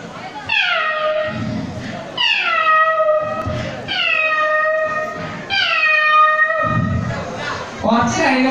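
A mimicry artist on stage at a college engineering festival imitates a cat with a series of loud, drawn-out meows that slide downward, one after another, while crowd noise murmurs in the gaps between them.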